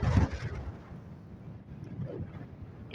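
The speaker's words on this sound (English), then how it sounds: "You hear the wind." Wind blows outdoors on a day in Cornwall, a low, gusty rumble buffeting the microphone, strongest at the start and then easing into a fainter steady rush, with no voices.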